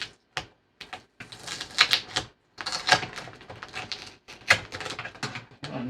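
Adhesive tape being pulled off the panel of a 43-inch 2021 Samsung The Frame TV, short, close crackling peels in several bursts separated by brief silences.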